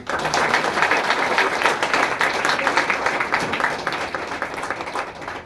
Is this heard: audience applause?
yes